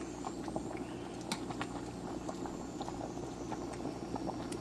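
Bucatini pasta bubbles in a steamy pot of water on the stove, a steady close rolling boil with scattered small pops and ticks throughout.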